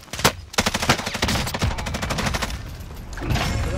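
Automatic gunfire in Call of Duty: Modern Warfare, a loud close burst of rapid rattling shots with a few single cracks at the start, then a dense sustained volley that keeps going to the end, with no talking.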